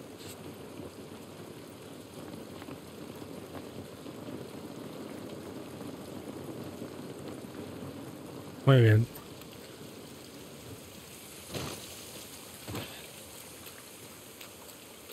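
Steady rain hiss in The Last of Us Part I on PS5 fills the background throughout, with a brief voice and a couple of soft knocks breaking through near the end.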